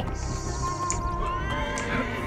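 A horse in the game Assassin's Creed Origins neighs, a high, wavering whinny near and clear over faint hoof clip-clops and low background ambience.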